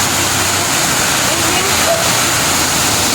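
Busay Falls in the province, a constant loud roar of falling water filling the scene, steady and close, with people's voices blended into it.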